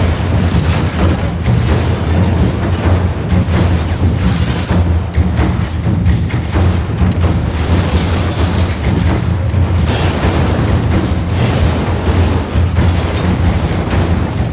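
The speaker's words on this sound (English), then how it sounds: "I miss impacts like that in CG explosions" Heavy booming blasts and thuds roll on continuously, loud and deep, like a big cinematic explosion sequence with no talking.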